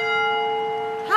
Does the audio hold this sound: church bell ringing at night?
yes